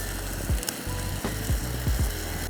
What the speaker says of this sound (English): While the bread's cooking